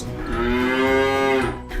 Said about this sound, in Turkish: ve inek.